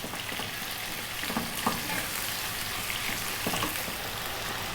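Onion and garlic fry in a stew pot over medium-high heat, giving a soft, steady crackling sizzle with a few stirring clatters, fairly quiet and close.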